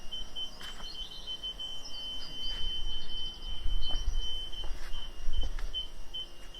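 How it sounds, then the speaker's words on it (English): A Fiat 500 convertible in reverse sounds its reversing beeper as a steady, high electronic tone, with a low rumble swelling underneath and no talking. "let's turn this off because it's beeping, it's getting on my nerves."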